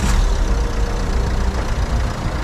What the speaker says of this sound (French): Déjà le moteur tourne bien.